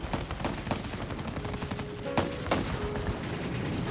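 Soldiers exchanging gunfire during a firefight on the way to an objective, with sharp cracking shots and short bursts over a dense, continuous background rumble, a few louder reports standing out near the middle.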